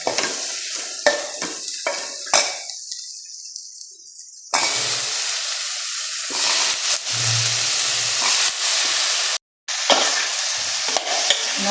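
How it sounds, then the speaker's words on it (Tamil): Long eggplant slices hit hot oil in a pan with a loud burst of sizzling and hissing, which carries on steadily under repeated stirring and scraping, broken by one brief silence, with no talk. "இப்போ இதுக்கு இப்போ கத்திரிக்காவை போட்டுடுறேன்."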